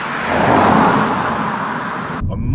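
A Mercedes A200 driving in normal mode, a close, steady broadband road and engine roar heard from inside the cabin, swelling slightly then cutting off abruptly near the end.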